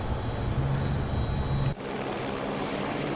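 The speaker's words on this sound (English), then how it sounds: "the sounds of this helicopter are just absolutely stunning" A simulated Dreamfoil Creations AS350 B3+ helicopter in flight, its turbine and rotor making a steady, loud broadband roar with a constant low thrum, uninterrupted apart from a brief dip partway through.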